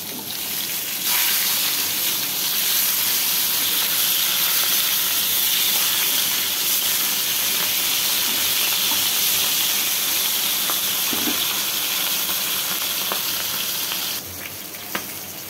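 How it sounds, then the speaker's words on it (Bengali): Flipped catla fish pieces keep frying in hot oil in a kadai, giving a loud, steady sizzle with faint crackles throughout. "এবার মাছগুলো উল্টে দেবো।"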